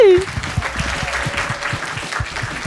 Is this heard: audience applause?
yes